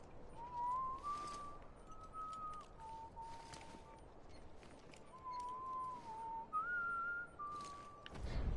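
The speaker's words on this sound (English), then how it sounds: "you can whistle a BB." A character whistles a wandering tune in the Death Stranding video game, several sustained, slightly sliding notes with short pauses between phrases, clear and close over a faint ambient outdoor background.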